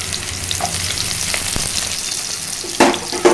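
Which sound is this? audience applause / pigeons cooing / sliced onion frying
sliced onion frying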